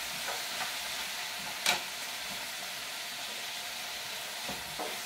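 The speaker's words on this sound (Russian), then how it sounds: "Все, пусть жарится." Soup ingredients fry in a pan with a soft, continuous sizzle, broken by a few quiet scraping stirs and one sharper clatter partway through.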